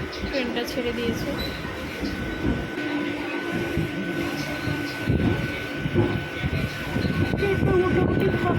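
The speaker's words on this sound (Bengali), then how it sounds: "ট্রেনটা ছেড়ে দিয়েছে" Katwa local train pulling out and running, a steady near rumble of wheels and carriage noise with a faint tonal whine while passengers talk throughout.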